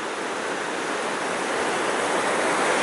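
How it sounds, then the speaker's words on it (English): Howard Creek in rural Plumas County, California, runs full in late May with a steady, loud rushing roar of water that continues unbroken, no voices. "This is Howard Creek, and look how it's running at the end of May."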